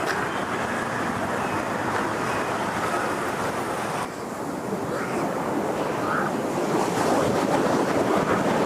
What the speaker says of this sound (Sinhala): ඈත ඉඳලා සටන් කාමයෙක් වගේ රැල්ල ගොඩට එනවා. වෙරළේ හැප්පිලා අහිංසකයා වගේ ආපහු යනවා.